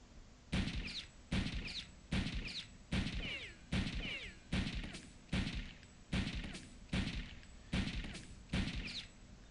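About eleven evenly spaced gunshots ring out in Return to Castle Wolfenstein, each a crisp, fairly quiet report with a short tail and no talk over them.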